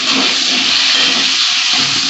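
Vegetables frying in hot oil with a little salt for a Bengali fish curry give off a loud, steady, unbroken sizzling hiss with no talk over it.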